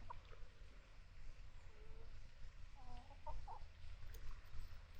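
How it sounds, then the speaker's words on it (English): Chickens clucking at a moderate distance, a few short scattered calls over a steady outdoor rumble and wind-like background noise. "Just loves her little chicken friends."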